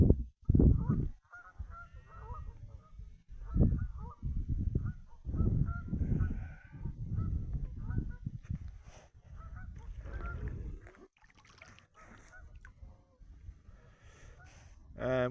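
Geese honk by a river, some near and others farther off, in scattered bursts with irregular pauses, while a person talks quietly in between.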